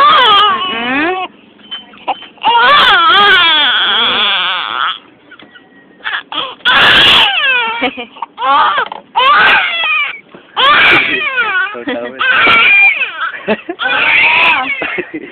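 Infant crying in repeated wailing bursts with short gaps, loud and close, with adults talking between cries.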